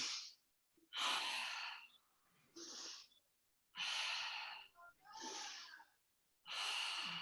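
Deep, slow breaths during a yoga flow class, six or so loud airy inhales and exhales at close range, separated by short quiet pauses.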